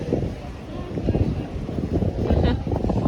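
Strong gusty wind at a beach in Alicante roars and buffets the microphone continuously, rising and falling in waves, with faint voices in the background.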